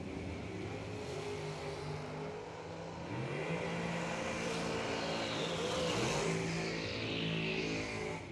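Blue dragster and a rival dragster roar off the line side by side at a drag strip race, engines revving loudly with rising and shifting pitch as they pull away, a continuous heavy engine roar throughout.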